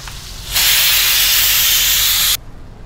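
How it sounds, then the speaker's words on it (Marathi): Mutton chops dropped into hot oil set off a loud, steady sizzle that bursts in suddenly, holds for nearly two seconds, then cuts off, with no talking. "मी बकऱ्याचे चाप टाकून घेत आहे तेलावर"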